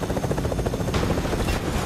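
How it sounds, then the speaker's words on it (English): A helicopter in the Fortnite video game gives off a loud, close, rapid rotor chop that pulses steadily throughout, with no speech over it. "Let me try to peek it for you guys. Right there, chopper."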